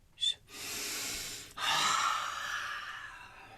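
Deep breaths drawn and released during a slow rolling spine exercise, a short sharp inhale followed by long, airy, close breaths with no talking.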